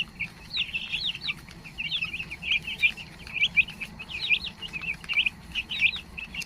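Chickens, including roosters in white, red and black, call in a yard with a string of high, chirpy clucks and short squawks, repeated at moderate loudness over a low background murmur.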